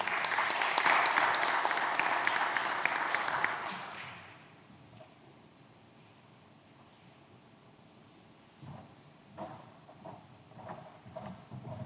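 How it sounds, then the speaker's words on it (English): A conference audience gives a panel of experts a dense round of applause that lasts about four seconds and then stops, leaving quiet room tone and a few soft sounds. "Let's give them a round of applause."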